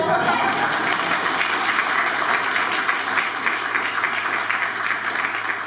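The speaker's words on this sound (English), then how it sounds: "that's an applause line" At a politician's event at Edge on the Square, an audience gives a sustained burst of applause, with dense crowd clapping holding steady and loud throughout.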